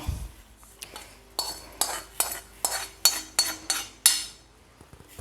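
A spoon scoops roasted fenugreek seeds from a pan onto a plate, striking and scraping the metal in a steady series of about ten sharp, close clinks.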